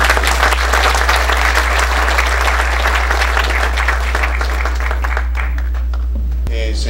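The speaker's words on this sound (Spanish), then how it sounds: "recibamos con un caluroso aplauso entonces al ingeniero Santa Cruz" Audience applause for an engineer at a mining engineers' week opening event, loud dense clapping that fades near the end, over a steady low electrical hum.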